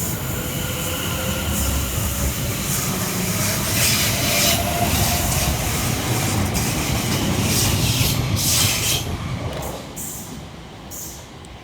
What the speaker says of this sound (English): we see the departure of 710-117 and 710-108 working the 1217 London Overground service from Cheshunt through to London Liverpool Street